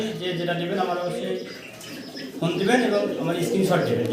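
Pigeons coo softly and repeatedly in the background while people talk nearby, the cooing partly buried under the voices, at a pigeon and bird seller's.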